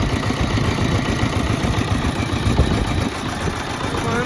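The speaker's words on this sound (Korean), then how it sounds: "1980년도에 생산된 아세아 디젤 경운기입니다. 지금도 시동 및 작동 잘 되고" A 1980 Asia diesel power tiller engine running, a loud steady low chugging drone close by, alone without voices.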